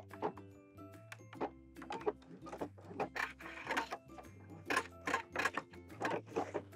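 Sewing machine back stitching an apron seam, close rapid mechanical whirring in short bursts with a low motor hum and clicking needle, stopping and starting.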